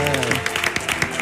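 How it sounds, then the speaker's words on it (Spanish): Applause for a guitarist on a televised flamenco talent show, a short burst of crowd clapping with a voice speaking over it at the start. "Un aplauso para el maestro también."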